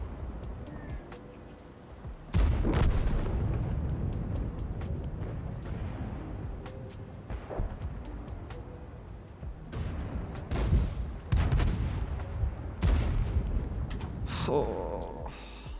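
A Grille 15 tank destroyer in World of Tanks fires its big gun. Several heavy booming shots and impacts are spread across the clip, mixed with engine rumble and frequent talking.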